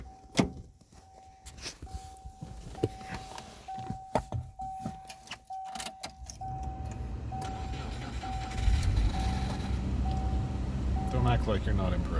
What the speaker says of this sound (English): Cold start her up.